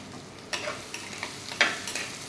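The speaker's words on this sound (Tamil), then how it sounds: "இதில் போட்டுட்டு இது நல்லா வதங்கணும்." Onions and green chillies sautéing for chicken in a pan, a soft steady sizzle with a few sharp scraping stirs of a spoon, close and fairly quiet, with no talking.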